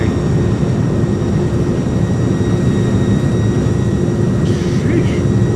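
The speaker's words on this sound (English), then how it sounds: "Close down gently, reversers out." Airbus A300 with thrust reversers deployed on landing roll at Louisville, simulated in Microsoft Flight Simulator, giving a loud, steady broadband jet roar with a low rumble that holds constant throughout.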